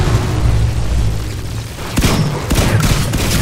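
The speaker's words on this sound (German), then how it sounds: "Ja, scheiße Granate." Grenade blast in the first-person shooter Titanfall, a burst of gunfire-like cracks and a booming impact around two seconds in, followed by more rapid shots amid continuous low battle rumble.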